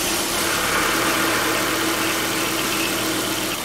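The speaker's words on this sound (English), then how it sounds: "the engine is running now and the fan is also running" A car engine idles steadily with a constant whooshing radiator cooling fan noise over it, the fan faulty and running all the time, loud and unbroken, no voices.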